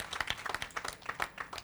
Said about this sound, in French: Le public ne vous a pas applaudi.